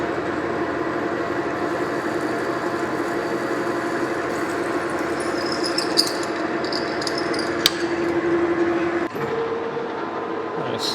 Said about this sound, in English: We'll just drill right through there.